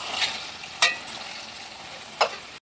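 Tomatoes sauté in a pan for a spicy chicken dish, a soft continuous sizzle with three brief scraping stirs spread apart, nearby and without talk before the sound cuts off.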